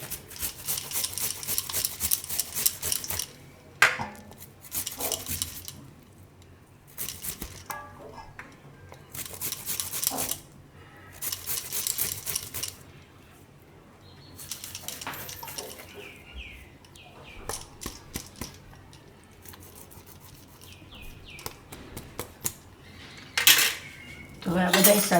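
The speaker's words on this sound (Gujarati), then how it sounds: "હવે આદુને છીણીને નાખીશું આ રીતે." Ginger being grated by hand over a dish for pava handvo, bursts of rapid rasping scrapes separated by pauses, with clinks of metal utensils, close and fairly loud.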